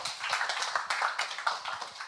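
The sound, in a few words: audience applause for the speaker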